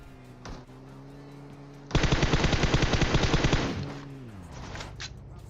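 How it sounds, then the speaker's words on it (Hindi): A sustained burst of rapid automatic gunfire in PUBG Mobile, loud and close, lasting a couple of seconds between quieter stretches of low hum. "मैंने गोली चला ही दी"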